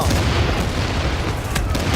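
An explosive goes off in The Division, a loud, dense low boom that rumbles for about two seconds and fills the whole clip.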